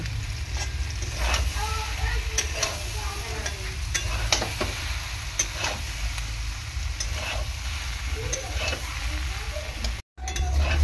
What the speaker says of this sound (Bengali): ভালো করে কষিয়ে নেব আলু আর সয়াবিনটাকে এরকমভাবে।